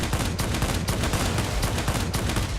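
Cannons on a Ta 183 jet fire in a video game, a dense continuous roar of rapid heavy shots lasting a few seconds, loud and close with no talking.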